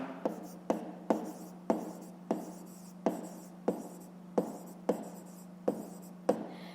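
Handwriting for a fifth-grade maths exercise: about a dozen short, crisp pen strokes tap out in an even rhythm, close and quiet, over a faint steady hum.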